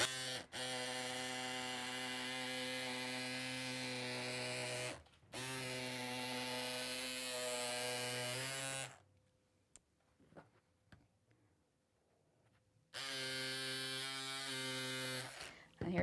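A flat-headed electric scissors cuts fabric strips with a loud, steady motor buzz that runs in long stretches, stops for a few seconds of quiet handling, then starts up again.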